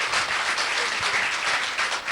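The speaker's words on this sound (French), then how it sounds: "Alors on applaudit." A studio audience gives a short, loud burst of applause, a dense and even clapping that fills the moment close up.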